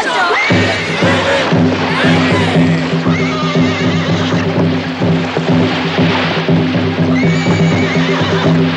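A horse whinnies repeatedly, loud and close, over a steady low rumble with hoofbeats and crowd noise behind it, in a Spanish-language feature film.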